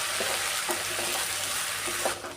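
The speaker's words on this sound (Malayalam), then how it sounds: "വെണ്ടയ്ക്ക, പടവലങ്ങ, ഉള്ളി, പച്ചമുളക്, കറിവേപ്പില ഇതെല്ലാം ഇട്ട് കൊടുത്തിട്ടുണ്ട്. നല്ലോണം ഒന്ന് വഴണ്ട് വരണം." Okra, snake gourd, onion, green chilli and curry leaves sauté in a hot pan for a Kerala-style lunch dish, giving a steady close sizzle with a few soft stirring scrapes and no talk.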